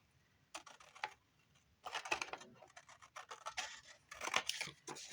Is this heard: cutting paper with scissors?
yes